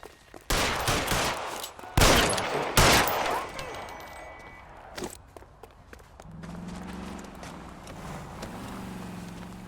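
Gunfire bursts in the detective video game L.A. Noire: several sharp, loud shots in the first few seconds, then scuffling footsteps and softer impacts, with a low rumbling hum rising toward the end.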